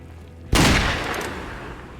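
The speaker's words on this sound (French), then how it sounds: "Vous avez entendu le coup de feu" A single sharp gunshot bursts out after a quiet moment in a Wild West roleplay game, loud and close, followed by a rumbling echo that slowly fades.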